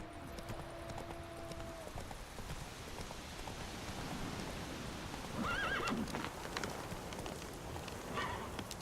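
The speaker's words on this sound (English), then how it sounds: "you don't need to make horse noises, you have a horse." Horse neighing with clip-clop of hooves in The Witcher 3 video game, a steady hoofbeat rhythm under a rain-like hiss, with a brief whinny rising over it near the end.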